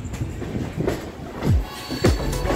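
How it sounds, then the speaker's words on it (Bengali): Moving express train just after departing Tatanagar, with rumbling wheels, low rail noise and a couple of brief squealing or clanking swells, heard from inside the carriage. "টাটানগর ছেড়ে দিয়েছে আমার ট্রেন"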